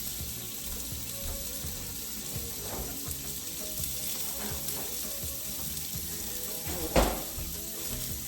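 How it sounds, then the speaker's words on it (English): A little ground beef frying in a pan, a faint steady sizzle running throughout, with one sharp clatter near the end. "So I have a little bit of ground beef, just a little, that's cooking over there"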